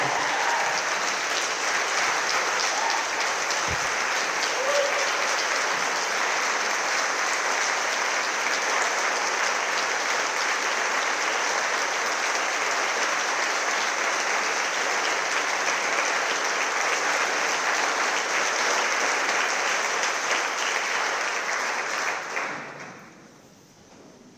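An audience gives sustained, dense applause for Congresswoman Nikema Williams at an evening event, steady and loud for over twenty seconds before it fades out quickly at the end.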